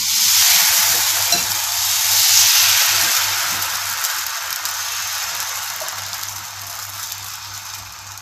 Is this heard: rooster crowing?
no